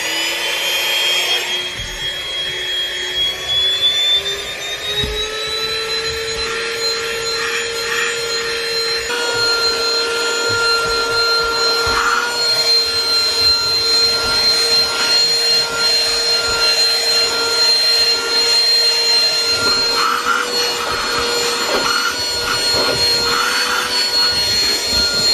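A vacuum cleaner sucks trash off a car seat, giving a loud, steady whine with a constant tonal hum that runs unbroken for the whole stretch, with no voices.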